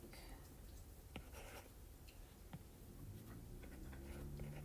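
A pencil scratches on paper in short, quiet strokes with small taps, set against a faint room background.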